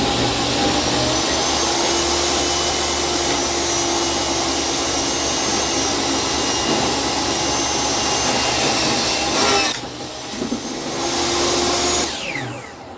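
A table saw cuts scrap wood pieces for a simple birdhouse, a loud continuous whining buzz running steadily for most of the span, briefly dropping near the end before resuming.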